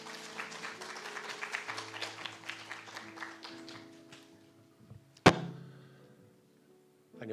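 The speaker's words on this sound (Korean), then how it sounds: "환영의 박수 부탁드립니다." An audience in a church hall claps in welcome, a dense patter of applause that thins out over several seconds, followed by a sharp thump near the end.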